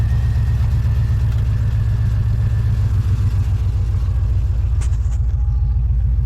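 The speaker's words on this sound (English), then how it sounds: "It sounds like an LS motor, you know." Close, steady idle of a 1967 Camaro fitted with an LS engine, a deep lumpy rumble that pulses evenly throughout with no talking.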